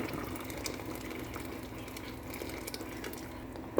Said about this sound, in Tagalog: Lagay natin na mainit ng tubig